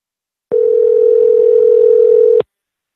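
A telephone tone plays during a call to a voicemail system: one steady, loud, unbroken electronic hum lasting about two seconds, alone, with silence before and after.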